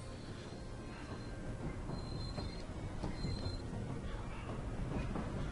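A train rolls along the rails in Paper Mario: The Thousand-Year Door, a steady rumbling ride with thin wheel squeals and rattling mechanisms running through the whole stretch, fairly loud and with no voices.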